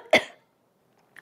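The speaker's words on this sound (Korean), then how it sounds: "이번엔 기침이 터졌습니다." A single sharp cough bursts out indoors while bedding is being shaken out, from someone with allergic dermatitis and rhinitis; one loud explosive burst, then near silence with a faint sound at the very end.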